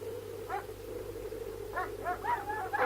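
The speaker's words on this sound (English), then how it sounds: "Dogs? Police dogs?" Police dogs bark as a sound effect in a radio drama. A single bark comes early, then a quick cluster of several yips and barks follows. All are fairly faint and distant over a steady low hum.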